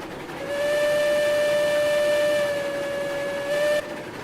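A steam locomotive whistle in the railroad game Railroads Online gives a loud, steady, tonal blast of about three seconds, shifting slightly near its end and then stopping abruptly.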